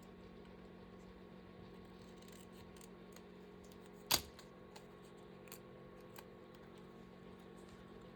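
Scissors trimming a paper cutout for a reading journal, faint quiet snips scattered over a low steady room hum, with one sharper clack standing out midway, close and without talk.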